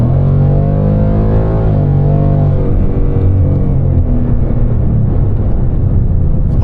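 A loud, deep Mustang GT engine of 500 hp, catalytic converters still fitted, revs up and roars, pitch rising and falling as the throttle is worked, close by and without any talk.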